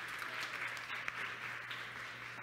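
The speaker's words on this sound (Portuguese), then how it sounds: "uma salva de palmas, que ela merece" An audience gives a round of applause for a woman at a gathering: steady, faint hand-clapping that sounds distant and continues evenly throughout.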